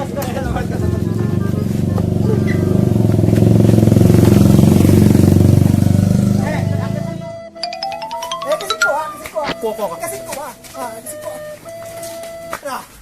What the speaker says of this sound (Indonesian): Nah, ieu motor.